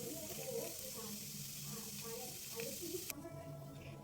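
Patishapta pitha, a Bengali rolled pancake, frying in a pan for Poush Sankranti, giving a steady soft sizzle and hiss that runs throughout with faint kitchen clatter.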